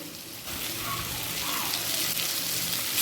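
Potatoes cooking in oil under a covered pan over a low flame, giving a steady, even sizzle and hiss that runs throughout with no talking.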